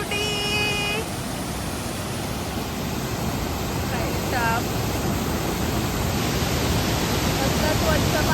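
A fast, forceful fountain jet of clear water rushes in a steady broadband roar throughout, near and loud, with brief chirpy voices and a few short tonal calls in the first seconds and midway.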